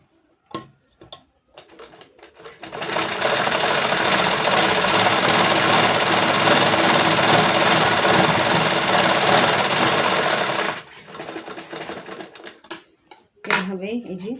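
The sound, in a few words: sewing machine stitching a trouser leg seam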